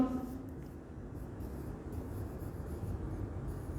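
Chalk or marker scraping across a classroom board as an example is written out, a steady continuous rubbing under a noisy room hum, no speech.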